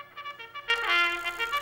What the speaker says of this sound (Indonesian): Itu adalah suara jam kukuk.